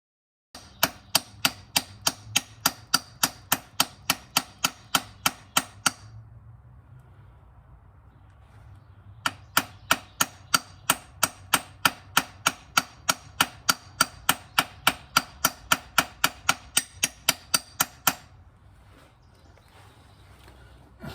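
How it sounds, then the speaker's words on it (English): Rapid, evenly spaced metal-on-metal hammer blows drive a pilot bearing into a 1997 Mustang Cobra crankshaft through a 27 mm impact socket, two long bursts of sharp close strikes separated by a pause. "I'm going to pound this pilot bearing in using a 27 millimeter impact socket"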